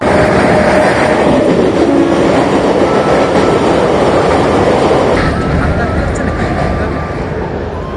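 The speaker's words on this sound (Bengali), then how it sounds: "আর এখন বাজছে 3:30, ওই জন্য ট্রেনটাও চলে এসছে।" A train rolls past close by near the Dantpur bridge in Bankura, its loud, steady rumble and rattling wagons filling the whole stretch before easing slightly toward the end, with people talking faintly underneath.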